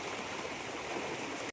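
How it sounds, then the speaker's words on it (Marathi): A stream swollen by heavy rain rushes in flood, a dense, steady roar of water heard alone for about a second and a half before cutting off abruptly. "पाहू शकता नदी नालेला पूर जोरात आल्यामुळे"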